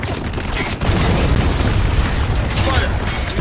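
Mortar fire in the war video game Spec Ops The Line: a loud, sustained booming roar with rumbling blast texture after a brief dip, filling the whole clip with little break.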